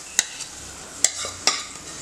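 Onion paste mixed with yogurt and turmeric goes into a hot pan over low flame, giving a few sharp sizzling bursts and utensil taps against a quiet background.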